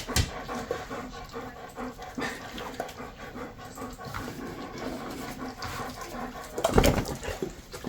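A dog pants steadily and close up during a teeth cleaning with pet dental wipes, quick rhythmic breaths over quiet room noise, with a brief louder rustle near the end.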